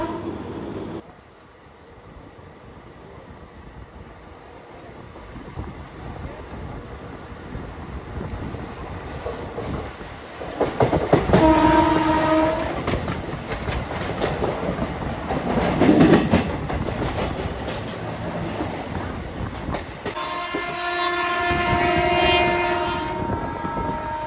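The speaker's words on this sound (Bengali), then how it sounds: "আমাদের ট্রেন এখন ক্রস করছে রিষড়া স্টেশন।" Howrah–Sahibganj Intercity Express 13427 rolls past Rishra station with a continuous clatter and rumble of wheels on track, followed by a loud horn at about eleven seconds and a longer near blast toward the end.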